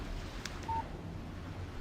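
A phone text message alert in the Alan Wake video game: one short electronic beep over a low, rumbling ambient background, with no talking.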